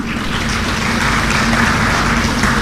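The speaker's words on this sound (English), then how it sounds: "A hand clap for him" Steady audience applause at an economic growth forum after a presentation, a dense, even patter of many hands at constant loudness throughout.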